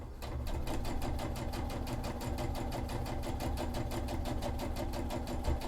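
A sewing machine runs a long stay stitch on a cosplay sleeve, its needle chattering in a fast, even rhythm of close, regular clicks that carries on steadily from start to finish, with no talk over it.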